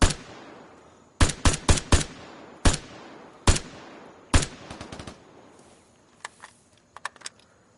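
Gunfire in the survival shooter game Vigor: sharp, loud single shots and quick clustered bursts ring out in an uneven rhythm, then give way to fainter, scattered reports.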